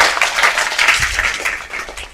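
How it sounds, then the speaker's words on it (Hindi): Students in a classroom applaud, a dense burst of hand clapping that holds steady for a couple of seconds, close and fairly loud. "जोरदार तालियां"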